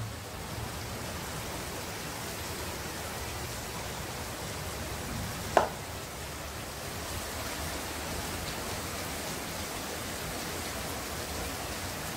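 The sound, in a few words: heavy rain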